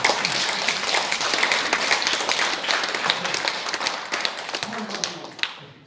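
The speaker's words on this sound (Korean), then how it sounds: "박수 한번 쳐주셔야죠." Audience applause during a lecture on happy families, a dense continuous wash of many hands clapping that fades toward the end, with some voices mixed in.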